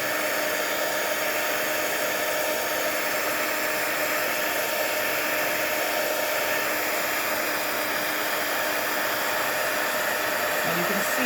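A handheld craft heat tool blows hot air steadily over wet ink on paper, a loud, close, unbroken whooshing drone.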